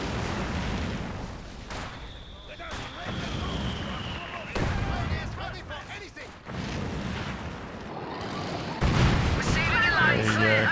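Heavy mortar shots land in the video game Company of Heroes 2, several booming impacts spaced a few seconds apart amid ongoing battle noise and gunfire.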